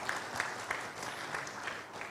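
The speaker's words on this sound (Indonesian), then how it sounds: "Tepuk tangan sekali lagi untuk PUPR" Faint applause from an audience at a formal gathering honoring the PUPR ministry, a soft steady patter with a few slightly louder claps, distant and low in level.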